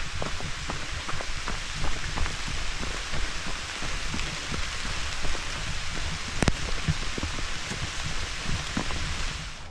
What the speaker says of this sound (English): we're definitely getting some rain out here